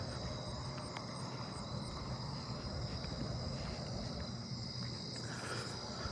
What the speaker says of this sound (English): Southern ground cricket.